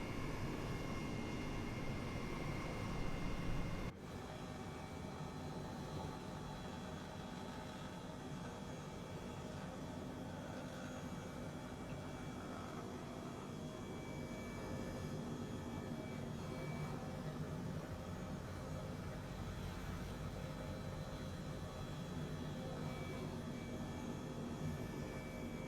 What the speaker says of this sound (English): Colonel Fork is airborne in a Harrier.